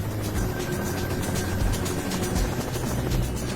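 A rescue helicopter flying in cloud, its steady rotor thump and engine drone heard loud and continuous throughout, with no voices over it.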